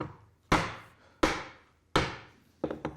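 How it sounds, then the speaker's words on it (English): A chisel is struck sharply three times to split waste off a wooden part for a decorative wall shelf, each close crack ringing out and fading before the next, followed by a few lighter taps. "one good chisel whack will actually remove all of this waste"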